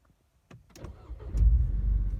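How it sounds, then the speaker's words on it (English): A car cranks and its engine catches after a Cobb Accessport V3 install flashed to a stage 2 map, a few clicks then a rising rumble settling into a close, steady running note. "Let's see if the car will start."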